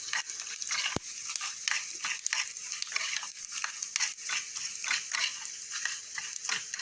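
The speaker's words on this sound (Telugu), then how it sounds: "ఆవాలు, ఇంగువ, మిరపకాయలు పోపు వేయించేటప్పుడు" Mustard seeds, asafoetida and chillies fry for a tempering in a pan, giving a steady close sizzle broken by repeated scraping stir strokes and sharp crackles, with no talk.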